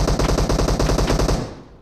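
A rapid burst of automatic gunfire from a PUBG Mobile match, roughly twenty evenly spaced shots in quick rhythm, loud and close, cutting off and fading into a short decay, with no voices over it.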